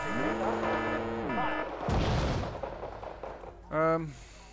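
Artillery fire in the real-time strategy game Wargame Red Dragon: a heavy boom with a rumbling tail, followed later by a second sharp blast, with music tones and a brief voice around them.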